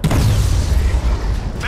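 A serpent drone gets struck by Batman in Batman: Arkham Knight, a dense, booming low-end impact that rumbles steadily for under two seconds.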